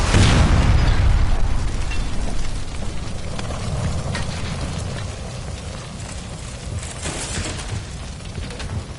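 A gas line explosion in the video game L.A. Noire bursts out with a loud, deep boom, then rumbles and crackles as fire, slowly fading over several seconds with no voices.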